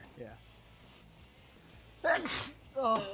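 A single loud, sharp sneeze bursts out partway through, from a gamer with bad allergies during a Battle for Bikini Bottom Rehydrated race, with brief talk just before it and right after.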